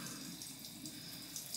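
A water tap runs in a steady faint stream, continuous rinsing splash with no voices.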